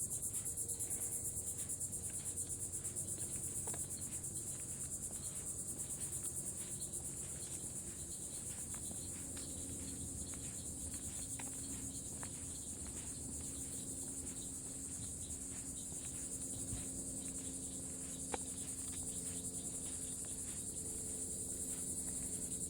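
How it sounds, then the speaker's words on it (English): Cicadas drone without a break along a nature hike on Florida's Space Coast, a dense high-pitched buzz holding steady at one loud level throughout. "Really? So much cicada hate. I know. Non-stop chirping."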